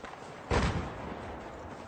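A single gunshot in Battlefield 4 multiplayer, a sharp broadband crack with a short rumbling tail over constant game ambience.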